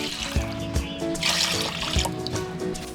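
Three cups of water pour into a pot or pan while making white buko salad, a close, continuous trickling splash with a few soft knocks mixed in, and no talking over it.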